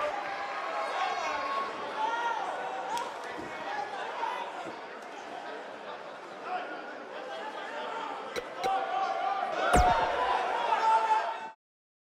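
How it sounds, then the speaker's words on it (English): Arena crowd in the wrestling video game WWE 2K19 chatters and murmurs continuously in a broad, steady wash, with a couple of sharp thuds and a commentator's voice over it. "Hear the crowd?"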